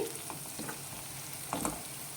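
Bitter gourd pieces frying in oil in a pan give a steady close sizzle, with a few louder crackles and stirring scrapes rising briefly near the end.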